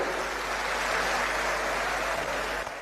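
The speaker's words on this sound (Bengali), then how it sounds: "একবার জোরে হাততালি দিয়ে আপনারা সবাই বরণ করে নেবেন" Applause fills a crowded hall at a party workers' convention in Kolkata, as an audience claps to welcome leaders onto the stage; steady, dense clapping holds at an even level throughout, with no speech over it.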